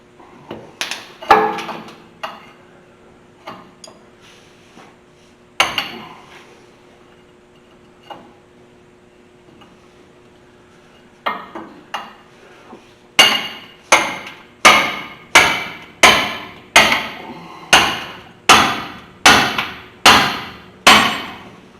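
A hammer drives a pickle fork to pop loose a ball joint on the front suspension of a 1983 Chevy Squarebody crew cab half-ton. A few scattered taps come first, then a rapid run of about a dozen loud, evenly spaced metallic blows.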